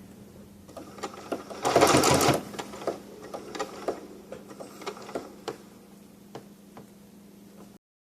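A sewing machine stitching a blanket stitch binding on a quilt, a short loud whirring run followed by slow, evenly spaced mechanical ticks of single stitches over a low steady hum, close by with no voices.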